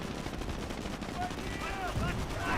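Rapid gunfire from a strafing run in the World War II strategy game Company of Heroes rattles in dense, continuous bursts over a short stretch, moderately loud in a busy battle mix.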